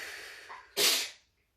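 A single sharp sneeze bursts out after a short breathy intake, then stops abruptly, close and fairly loud, during a post-caesarean rehab exercise session.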